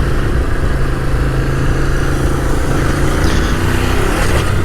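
A motorcycle being ridden gives a steady, close engine drone with road rumble throughout, with no talk over it.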